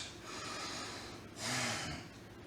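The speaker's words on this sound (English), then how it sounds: "Take a deep breath like that." A senior doing a home exercise takes one deep breath, a soft, close airy inhale that swells to a stronger rush near the middle and then fades, with no talking.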